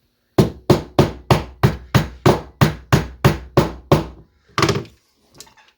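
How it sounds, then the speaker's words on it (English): About a dozen solid hammer blows drive a pin into a circa 1974 DAM Quick 220N spinning reel, falling in a quick, even rhythm, followed by a pause and a couple of lighter knocks. "so I can hammer this pin in"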